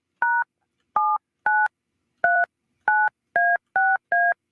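Eight touch-tone keypad beeps as a phone number is dialed, short crisp tones in a quick uneven rhythm with a pause after the third, close and clean with nothing else around them.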